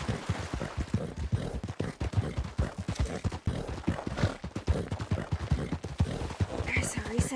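A horse's hooves clip-clopping at a steady, running pace in Red Dead Redemption 2, a Western video game, the regular beats continuing throughout under frequent talk.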